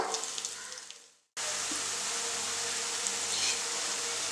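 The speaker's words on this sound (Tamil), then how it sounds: "மீடியம் ஃப்ளேமில் வந்து வேக வச்சுக்கோங்க" Cauliflower hash browns frying in a pan over a medium flame give a dense, steady sizzle that cuts out sharply for a moment, then returns louder and continuous.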